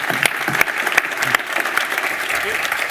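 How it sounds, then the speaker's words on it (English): A conference audience at Codegarden 2022 gives its guests a round of applause: dense, steady clapping from many hands, with a few sharper claps standing out and no voices over it. "Yeah, big round of applause."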